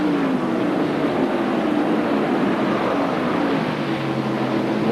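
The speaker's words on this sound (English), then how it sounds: "Now we hear Morgan get off the gas, just completely off the gas now to try to get the car through that corner" A stock car at Darlington Raceway in the 1991 NASCAR Winston Cup Southern 500, heard from inside as the driver backs completely off the throttle for a corner; a loud, steady engine drone slowly sinks in pitch throughout.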